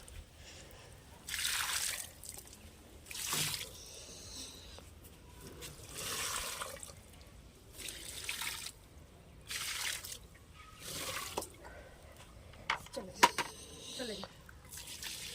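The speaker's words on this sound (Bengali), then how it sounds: "তাই এখন আমি গাছগুলোতে জল দিয়ে নিই।" Potted plants are watered in several separate pours, each a short, close splashing gush of water into soil, repeated at steady intervals, with a few clinks near the end.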